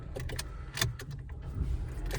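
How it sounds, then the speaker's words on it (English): Dacia Duster started with a key, with keys jangling and clicking and a low engine rumble building underneath, heard close inside the car. "Start the car."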